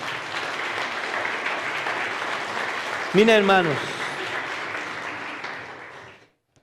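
Loud sustained applause from a church congregation at a Spanish-language sermon, broad and steady for about six seconds, with a voice speaking briefly over it midway before it fades out.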